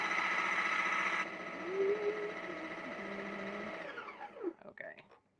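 Kitchen blender whirring as it mixes homemade cat food with Alnutrin supplement, a steady motor drone that winds down and stops after about four seconds.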